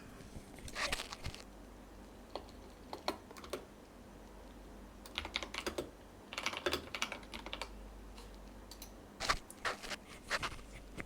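Keystrokes on a computer keyboard tap out a dashboard ID in short, quiet bursts of clicks separated by brief pauses, close up in a quiet room with no one talking.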